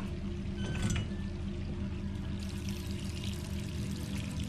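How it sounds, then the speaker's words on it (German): Water runs steadily from a tap in a bathroom in Resident Evil 3, a soft continuous pouring hiss at low level with a brief splashy burst near the start. "Das Wasser läuft, warum auch immer"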